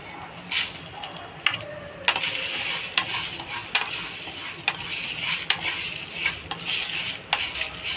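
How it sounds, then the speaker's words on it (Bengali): Dry red chillies and whole coriander seeds sizzle softly in a pan for raw mango pickle, with repeated sharp scraping clinks from a spoon stirring throughout. "তো ভেজে নেব শুকনো লঙ্কা"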